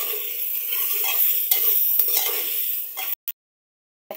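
Ground spice paste sizzles and fries in hot oil with beef being cooked in soy sauce, a steady close crackle with stirring scrapes, cutting off abruptly near the end after a couple of brief bursts.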